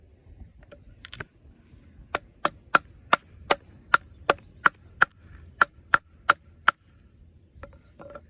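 A Nedfoss Boar knife with a D2 steel blade splits wood in a rapid series of about a dozen sharp, dry cracking taps, close and crisp, with quieter rustling before and after.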